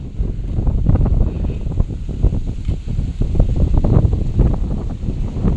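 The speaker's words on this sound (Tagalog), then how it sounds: "Medyo mahangin-hangin po rito." Steady wind blows across an outdoor spot near a riprap bank and shallow water, a continuous low rumbling gusty roar buffeting the microphone for several seconds with no voices.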